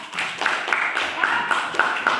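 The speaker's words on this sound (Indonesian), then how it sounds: "Kasih tepuk tangan dulu ya." In a classroom mathematics lesson, a small group claps in a quick, regular rhythm, each sharp clap distinct and fairly close, with room echo behind it.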